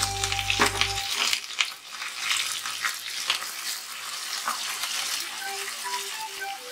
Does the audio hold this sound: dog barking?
no